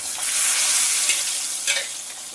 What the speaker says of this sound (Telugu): ఆయిల్ హీట్ అయింది. దీంట్లోకి అరకప్పు పల్లీలు, అరకప్పు శనగపప్పు, అరకప్పు మినపప్పు